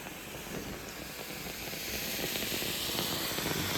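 A steady hiss of steam from a carpet steam cleaner sprays continuously, growing slightly louder, with faint crackling and popping of water underneath.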